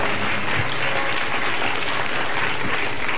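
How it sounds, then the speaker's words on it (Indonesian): Studio audience at a television talk show breaking into steady, full applause, a dense wash of clapping that holds at an even level throughout with no talking. "Tepuk tangan."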